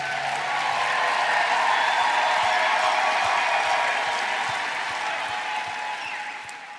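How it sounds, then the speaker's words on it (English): Sustained applause from a crowd honoring graduates at a university commencement ceremony, loud and steady throughout before slowly fading toward the end. "Let's give another round of applause to all of our graduates."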